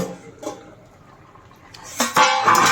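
A lid comes off a pot of boiling food being cooked for a young jackfruit and prawn dish: soft bubbling, then a close metallic clank and rattle near the end.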